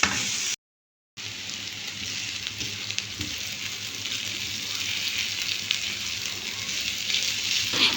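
Crepe filling mixture frying in a pan, a steady close hiss and crackle of sizzling that continues after a brief silent gap near the start.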